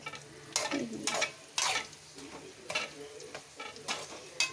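Vegetable pieces for bitter gourd curry sizzle in a pan while being stirred, with bursts of scraping and frying noise rising and falling at irregular intervals.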